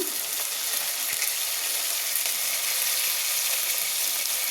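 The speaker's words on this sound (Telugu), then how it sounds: "కొంచెం ఆయిల్ కరివేపాకు కొంచెం వేద్దాము" Curry leaves hit hot oil and set off a loud, dense, unbroken sizzle that stays close and even throughout, with no voices.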